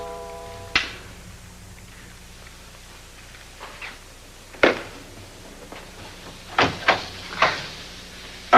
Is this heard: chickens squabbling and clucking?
no